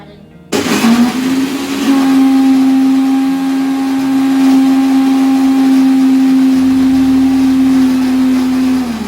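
A mixer grinder whirs into motion after a brief pause and grinds onion into a paste, holding a loud, steady, high-pitched motor whine at close range until it slows slightly near the end.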